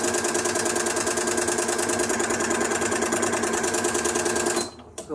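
A Janome Flower Stitcher sewing machine runs a blind hem stitch, giving a fast, steady mechanical whirring and clatter up close that stops abruptly near the end.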